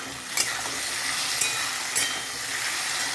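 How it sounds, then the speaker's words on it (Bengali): Potatoes fry in a pan with a bright, continuous sizzle at close range, broken by a few sharp stirring clinks of a utensil against the metal. "এই যে আলু ভাজা"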